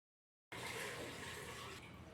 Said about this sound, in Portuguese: Colocar a água.